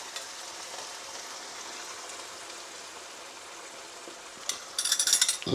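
Bolognese sauce sizzles and bubbles softly in a pan as it is stirred, a steady low crackle that ends in a brief burst of louder spitting.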